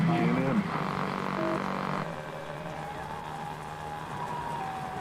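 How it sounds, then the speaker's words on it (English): Siren Head in a horror video game hijacks radio frequencies, producing a loud wavering, distorted siren-like electronic wail that shifts tone midway and then drones on more steadily with faint voices underneath. "Siren Head can hijack radio frequencies."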